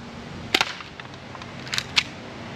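A FIREPOWER .45 airsoft pistol fires at targets including a can and a bottle. Sharp, close snaps come in two quick clusters of two or three shots each, with faint small impacts between them.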